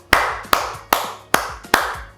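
Five sharp, evenly spaced hand claps, close and loud, marking a correct answer in a Filipino-language school reading lesson.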